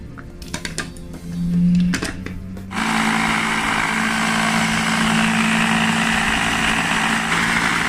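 Homemade cream cheese in a blender: a few clicks and handling knocks with a brief motor burst, then the blender starts and runs steadily with a loud whirring drone to the end.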